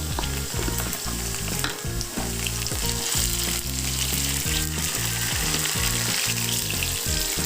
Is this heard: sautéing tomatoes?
yes